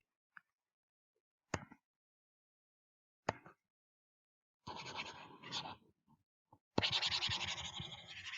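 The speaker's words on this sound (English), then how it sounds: "I'm going to erase that now" A marker is erased from a board during a maths lesson on transposition: isolated scrapes and taps at first, then longer rubbing wipes that grow busier and louder toward the end, close by and with no talk.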